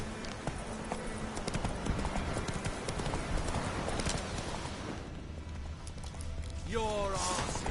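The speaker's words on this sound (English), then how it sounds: "Run, Roach" A horse gallops in The Witcher 3, with rapid rhythmic hoofbeats and a brief whinny near the end, loud and close over game ambience and voices.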